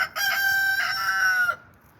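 A rooster among foraging backyard chickens, including black Australorps, lets out a single loud, close crow lasting over a second, with a brief cluck just before it.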